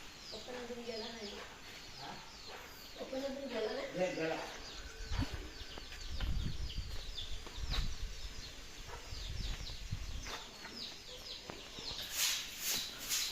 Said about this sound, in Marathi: पावसाच्यामुळे मंगूस वगैरे फिरतात मित्रांनो म्हणून कोंबड्यांना असे बांधून ठेवतात आमच्या कोकणामध्ये